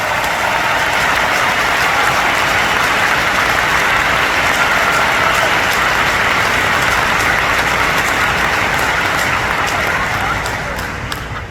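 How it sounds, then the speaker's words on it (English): A union audience at a strikers' gathering applauds with dense, loud, steady clapping that keeps going without a break for over ten seconds. "Give yourselves a round of applause."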